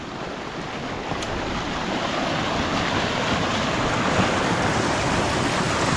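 Water gushing from a newly installed underground drain outlet, a dense, loud, continuous rushing wash that swells slightly and holds steady throughout, with no voices.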